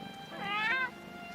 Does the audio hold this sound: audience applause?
no